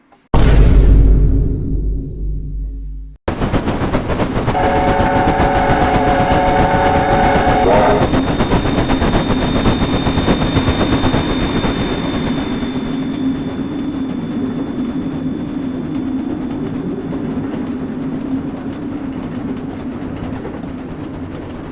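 Caledonian Railway 600 class 0-8-0 steam locomotive in Train Simulator, running with a steady loud rumble and rhythmic rail clatter, a brief whistle-like tone early on, continuous throughout.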